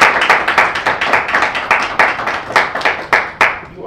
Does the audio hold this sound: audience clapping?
yes